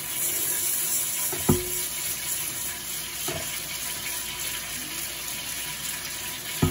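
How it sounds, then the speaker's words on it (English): Water running from a tap into a pot for cooking jasmine rice, a steady close splashing flow with a couple of sharp clunks from the pot or sink along the way. "Just put the water."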